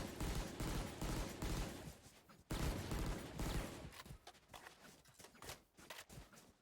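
Rapid pistol gunfire in a Valorant esports match, dense overlapping shots in quick bursts, loud and close, broken by brief pauses, with faint commentary underneath.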